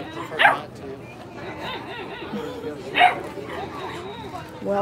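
Several dogs, including Great Danes, Miniature Pinschers and Standard Australian Shepherds, at an outdoor puppy sale in Canton, Texas; two sharp barks about three seconds apart stand out over a low murmur of crowd chatter.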